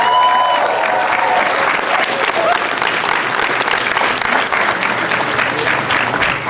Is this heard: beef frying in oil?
no